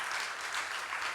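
A church congregation applauds during a Sunday service, with brief, even clapping from many hands at a soft, distant level and no voices over it.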